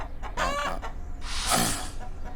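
Cartoon chickens in a cage clucking and squawking, a few loud close calls rising into a longer cackle, with no talk over them.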